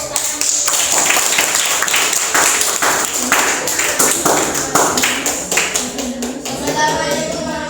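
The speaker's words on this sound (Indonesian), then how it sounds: "Tepuk tangan." A classroom group of students claps hands together in a fairly loud, uneven burst lasting several seconds, individual claps audible within the crowd, fading as a voice starts speaking near the end.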